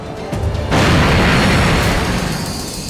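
Loud, close explosion that bursts in suddenly and keeps roaring as a sustained rumbling blast, slowly tailing off after a quieter rumble before it.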